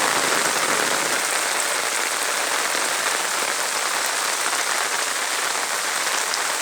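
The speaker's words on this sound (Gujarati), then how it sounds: "ભૂકા કાઢે એટલો વરસાદ પડે છે, તે પાણી માતું નથી।" Heavy monsoon rain pours down steadily, a dense, loud, continuous hiss of drops drumming on surfaces throughout.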